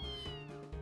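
A cat character in the video game Fantasy Life gives a single clear, short meow that falls in pitch, heard close over a faint steady background tone.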